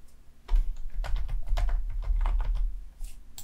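Close computer keyboard typing while a folder name is entered, a quick burst of irregular clicking keystrokes that starts after a brief pause and runs steadily, with a couple of final taps at the end.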